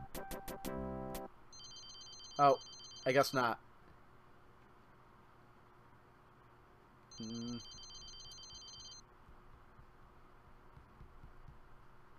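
A retro game telephone rings in Leisure Suit Larry 3 as bursts of electronic trilling, several quick rings early on and another after a pause, with a voice speaking briefly in between and game hum beneath.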